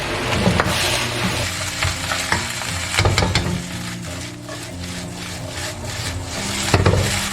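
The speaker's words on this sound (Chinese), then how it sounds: "再来1圈味极鲜酱油，然后炒出酱香味。" Seaweed fried rice with carrot and corn being stir-fried with soy sauce in a hot wok, a steady close sizzle under repeated scraping and tossing strokes of the spatula, with no talking.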